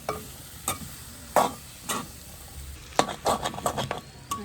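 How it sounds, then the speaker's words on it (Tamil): Chicken curry with dried red chillies is stirred and tossed in a pan, with loud close scrapes in uneven bursts over a soft sizzle and no talking. "நல்லா பிரட்டி போட்டு நாங்கள் இதை அப்படியே மூடி விட போகிறேன்."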